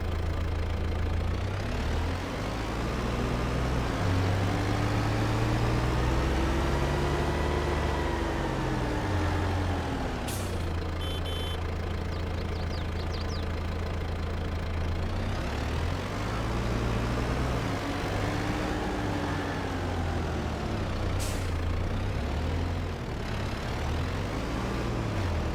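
A Kubota tractor fitted with a front loader drives in a farming video game, its mid-pitched diesel engine droning steadily and rising and falling in revs, with a couple of short clanks partway through.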